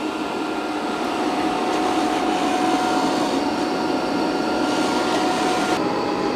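A Eufy Omni C20 robot vacuum runs over carpet, making a loud, steady broadband whir with a faint tonal hum, close and continuous with no voices.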